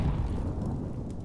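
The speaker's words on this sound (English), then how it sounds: "Throwing a grenade." A grenade detonates in a Counter-Strike: Global Offensive match, a loud, low rumbling blast that rolls on steadily for over a second without any talk.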